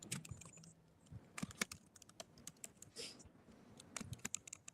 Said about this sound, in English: I'm typing in there, Brother Sanjay.